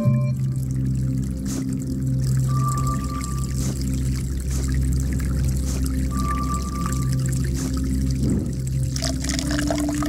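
Water pours steadily in a video game scene, a continuous trickling stream over a low ambient hum, with a couple of brief tonal chimes rising above it.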